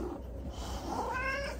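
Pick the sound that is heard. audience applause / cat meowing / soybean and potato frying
cat meowing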